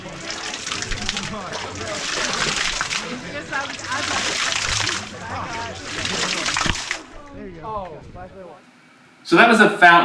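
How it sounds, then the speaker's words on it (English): Water fountain splashing and gushing loudly, captured up close on a GoPro Max 360 camera, in several surging bursts with voices and a brief sharp noise near the end. "So that was a fountain."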